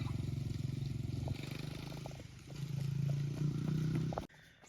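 A Honda CRF100F kids' dirt bike engine running close by with a steady putter, rising and falling with throttle, then cutting off abruptly near the end.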